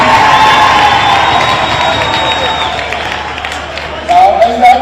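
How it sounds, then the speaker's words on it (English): Large audience at an African National Congress conference in South Africa applauding and cheering during a presidential speech, a steady broad roar of clapping and shouts that swells again near the end. "I want to hear you applaud this"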